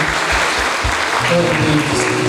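Audience applause at a Catholic Eucharist event, a dense continuous clapping wash with voices and faint tones mixed underneath.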